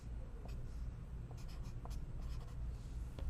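Chalk or marker scratching out a graph on a lecture board, soft intermittent strokes over a steady room hum.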